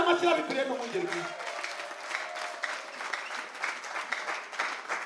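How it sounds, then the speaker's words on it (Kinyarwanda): Applause from a church congregation during a prayer service, a steady dense clapping that follows a voice and tones at the start, moderately loud and sustained to the end. "Reka tuyikomere amashyi"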